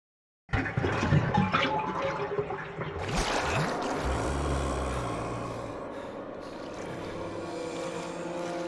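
Dirty water drains in Resident Evil HD Remaster, starting with a burst of splashing and then settling into a steady, loud rushing gurgle that fills the rest of the clip with no talking.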